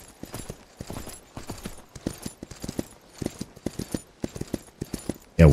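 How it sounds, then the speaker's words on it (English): Horse hooves clip-clop steadily at a slow walk in the Myth of Empires video game, close and rhythmic, with faint jingling tack and no talking. "I can't even get my horse to go that slow."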